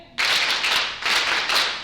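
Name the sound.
clapping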